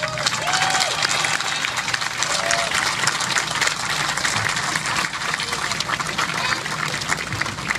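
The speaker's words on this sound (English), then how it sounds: "give a real round of applause to Senator Cole" A crowd at the Milwaukee Bucks arena groundbreaking applauds for a senator, a steady wash of clapping mixed with crowd noise and some voices underneath.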